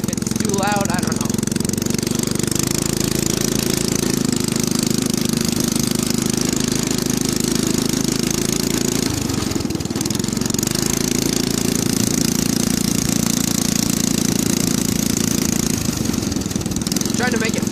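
A go-kart engine fitted with a new muffler runs steadily and loudly up close, with a constant rumbling drone, brief dips in revs and occasional pops, while people talk over it.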